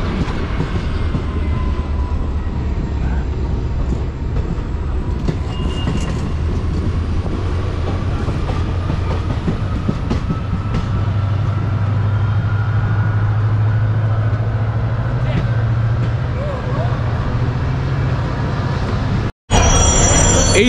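Heavy rumbling noise from a train stopped at Jodhpur Junction station in Rajasthan, a steady loud drone with faint clatter running throughout, cut by a brief break near the end.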